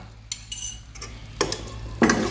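Amla mixture stirred in a pan, a few short soft scraping strokes of a spoon against the pan, the last two louder, over a faint steady hum.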